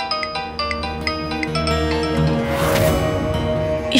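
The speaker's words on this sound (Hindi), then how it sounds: "राज का फोन।" A phone rings with a repeating melodic ringtone, bright tones in a steady pattern over a bed of dramatic background music that swells partway through.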